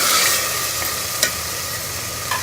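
Tomato paste and green chili paste frying in a pan, a steady close sizzle with a couple of sharp stirring clinks, no talk.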